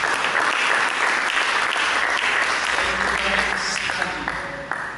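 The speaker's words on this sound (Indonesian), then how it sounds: "Mari kita berikan tepuk tangan." A church congregation claps steadily and loudly during a sermon, a dense wash of applause that holds for several seconds and fades a little toward the end.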